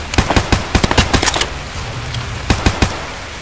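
Gunfire in the multiplayer shooter Escape from Tarkov: a rapid cluster of sharp, loud shots in quick succession, then a pause and a few more close bursts of fire.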